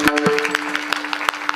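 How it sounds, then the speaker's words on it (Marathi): Audience at a Marathi kirtan gathering under a pandal claps in a short, loose burst of applause, with a steady electronic hum from the sound system beneath the claps. "त्यांच्यासाठी सुद्धा एकदा सर्वांनी टाळी वाजवली पाहिजे"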